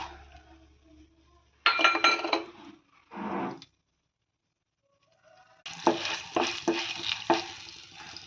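Mustard seeds, cumin, dried red chillies and chana dal tempering in hot oil for a ridge gourd fry, heard as loud close sizzling bursts broken by short silences, with a steady crackling sizzle in the final seconds.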